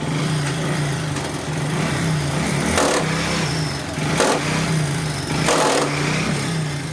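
A customer's motorcycle runs in a mechanic's workshop, its rear chain pads due for replacement: a steady, close engine drone broken by three short revving surges.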